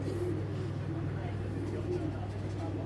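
A pair of large, milk-white Indian Kaldom pigeons with black beaks gives low, repeated cooing close by over a steady hum of background noise.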